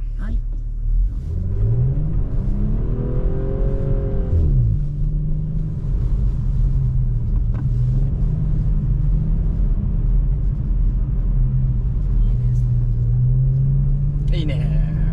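An Audi's engine rumbles and revs on an oval ice track, pitch rising and falling as it accelerates, with people talking over the steady engine drone.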